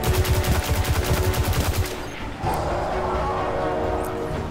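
Rapid automatic weapon fire in Destiny 2, a loud, evenly spaced burst of close shots lasting about two seconds, then a rumbling lower wash of game noise.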